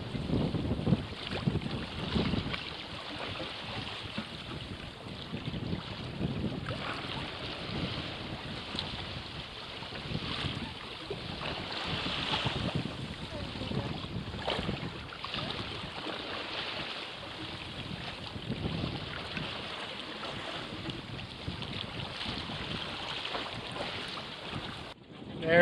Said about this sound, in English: Sailing up to Mermaid Island.